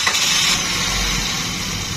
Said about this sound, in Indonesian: Kita hidupin mesinnya.